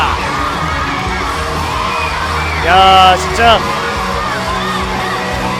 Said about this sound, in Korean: 그리고 팬들의 열렬한 환호 완벽한 무대입니다